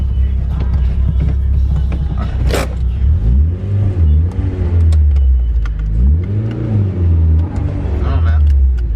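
Mitsubishi Evo engine revving hard while stationary during a clutch slip test, a loud sustained drone with repeated rising and falling rev sweeps, voices talking over it.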